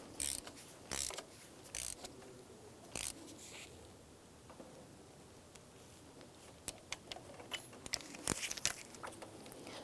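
A socket wrench gives a few faint scattered clicks and ticks as it tightens an oil pressure sender on a 2004-2009 Subaru Outback, quiet and close, with soft handling noises between them.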